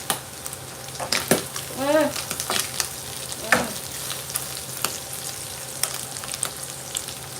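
Vegetables (carrot, corn and celery) hitting a hot pan and being stir-fried for pancit canton, a steady sizzle with a few sharp clatters of utensil against pan.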